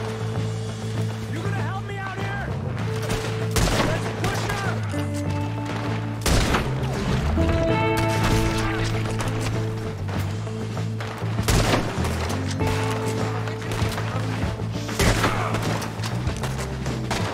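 Gunfire in Red Dead Redemption 2 sounds in sharp bursts of shots amid a loud orchestral score, with voices talking over the action.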